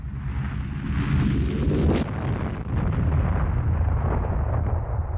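A huge explosion tears through the battleship Maine at anchor, a loud sustained roar that builds, bursts, then rumbles on with heavy low-end noise and crackling debris for several seconds, no voices.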